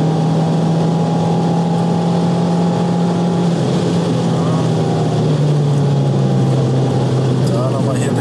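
An Abarth car engine at full throttle on the Bilster Berg race track, a steady droning note that holds and then dips slightly partway through, with a rushing background from start to finish.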